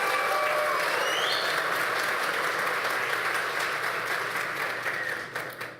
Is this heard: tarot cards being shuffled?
no